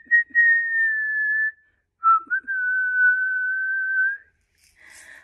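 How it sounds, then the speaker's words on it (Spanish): A person whistles two long, steady sustained notes, each with a short pickup, separated by a brief pause; clear and close with no talking. "Vamos a chiflar. ¿Puedes chiflar tú conmigo?"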